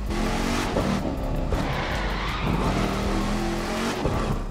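A Dodge Hellcat drifting in The Crew 2, its engine roaring steadily with rising and falling revs and smeared tire squeal running under it, continuous and close with no talk.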